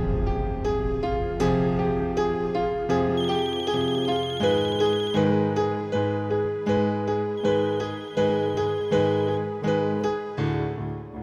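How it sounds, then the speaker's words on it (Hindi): A mobile phone rings with a melodic electronic ringtone, a bright chiming tune repeating its phrases loudly and clearly, with no voices over it. "अब मैं फोन करता हूँ साइलेंट पे,"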